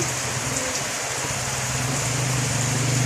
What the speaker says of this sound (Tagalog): Nilakasan pa ang ulan